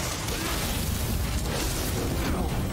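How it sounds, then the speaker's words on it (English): A flashbang goes off in the samurai action game Rise of the Ronin, producing a loud, sustained roaring blast with a dense wash of noise that fills the whole moment. "A flashbang? Really?"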